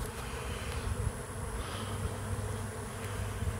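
A steady, low buzzing drone of a honeybee swarm settling into a box, close and continuous, with no voices.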